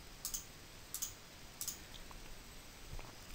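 A computer mouse clicks a button on a software form, giving three sharp, close clicks spaced evenly over a quiet room hum, then a couple of fainter taps.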